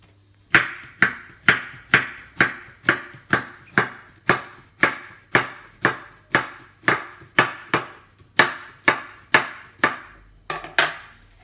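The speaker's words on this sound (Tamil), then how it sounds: "இந்த மாதிரி பாவக்காவை இந்த சைஸில் வந்து கட் பண்ணிக்கோங்க." A knife chops bitter gourd into thin slices on a board for a Tamil New Year feast, about twenty sharp, evenly spaced cuts in a steady rhythm, close and clear with no talking.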